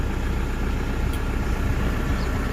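A car engine idles steadily and loudly nearby just after starting, a constant low rumble with no pauses or voices.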